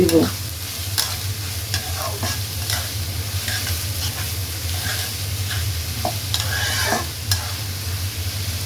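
Onions fry in a pan for a dried loitta fish bhuna, with a continuous sizzle under repeated scraping stir strokes, close and fairly loud.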